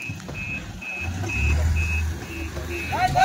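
A goods vehicle carrying Kathiawadi goats backs in with a steady, evenly spaced reversing beep over a low engine rumble, close by.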